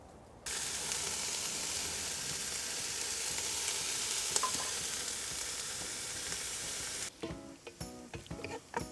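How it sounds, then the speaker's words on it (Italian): Onions sizzle in hot oil in a Dutch oven set over coals for goulash, a dense steady hiss that runs loud and close for several seconds before breaking into lighter stirring and crackles. "iniziamo mettendo l'olio, lasciamolo scaldare giusto un pochettino e introduciamo le cipolle"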